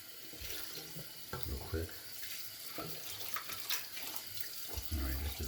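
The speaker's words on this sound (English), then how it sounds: "Just rinsing out the bowl here," Tap water runs into a sink while a shaving bowl is rinsed out, a steady splashing hiss with uneven gurgles and sloshes, close, and someone says a few words over it.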